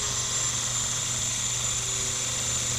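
A Dremel aluminum oxide grinding stone grinds aluminum stock with a steady, high whining buzz that stays constant and close throughout, with no talking.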